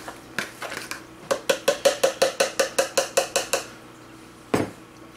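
A fork beaten fast inside a bowl while mixing pizza dough, giving a rapid run of about a dozen bright, evenly spaced clinks, close and loud, with a few scattered taps before and one heavier knock near the end.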